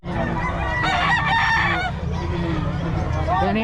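Chickens at a market, with fowl calls and a crowing-like cry rising over a loud, busy crowd, people talking throughout, close and steady.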